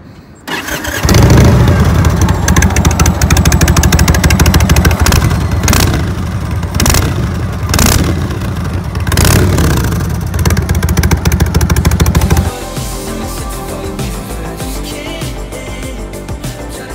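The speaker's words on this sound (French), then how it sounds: "on passe au moment que vous attendez tous, le démarrage de notre Indian Martin" Indian Martini motorcycle with an 1811cc engine, starting up and then revving in repeated loud surges over a rumbling idle, close by, before settling into a quieter steady idle near the end.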